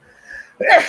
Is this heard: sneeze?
yes